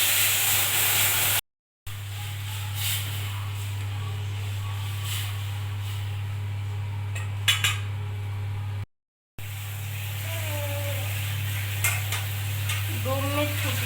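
Boiled dal poured over dry red chillies fried in oil, for a sour mango dal. It sizzles and hisses steadily and loudly throughout, with faint stirring and a low hum underneath.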